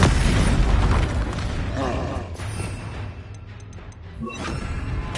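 A Confringo blasting curse explodes in a Hogwarts Legacy fight on PS5 with deep booms and crashing impacts, loud at first, easing into rumbling combat noise before another burst near the end, with a voice calling out.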